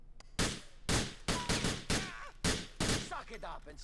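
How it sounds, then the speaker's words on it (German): A rapid series of loud gunshots in Grand Theft Auto IV, roughly eight sharp blasts in uneven succession, each trailing into a brief ringing decay with some background game noise. "waren jetzt nicht die gezieltesten Schüsse"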